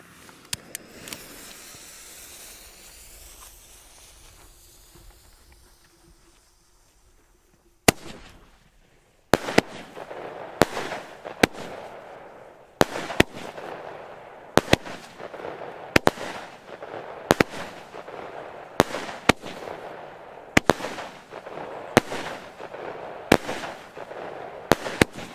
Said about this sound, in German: kleine 16-Schuss-Batterie